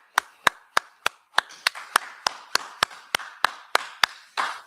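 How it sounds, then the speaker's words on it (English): A group clapping hands in unison at a brotherhood class, about thirteen sharp, evenly spaced claps with a steady rhythm, close and loud, ending in a brief scattered burst of clapping. "clap it up"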